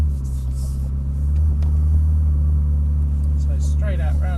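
A Ferrari's engine rumbles steadily from inside the car as it pulls away under acceleration, a deep continuous drone that swells slightly midway, with some faint clicks and a voice briefly at the end.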